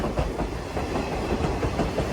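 The Kolkata–Agartala Kanchanjunga Express rolls past close by in the Lumding railway division, its wheels clattering in a steady clickety-clack rhythm over a continuous rumbling roar.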